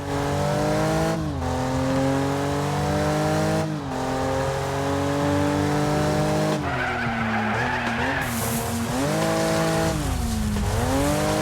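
Race car engine revving hard with repeated gear shifts and screeching, skidding tires in The Crew 2 racing game, loud and continuous throughout, with the pitch rising and dropping between shifts.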